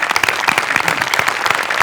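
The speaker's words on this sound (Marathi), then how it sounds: "त्यामुळे दत्तूसाठी एकदा जोरदार टाळ्या" A comedy show audience gives strong applause for the performer Dattu, with dense, even clapping that fills the whole short stretch without pause.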